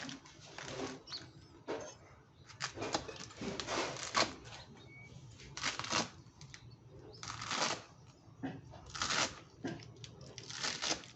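Crisp crunching slices of freshly picked gotu kola leaves repeat in an uneven rhythm, each a short bright crackle, close by and fairly faint.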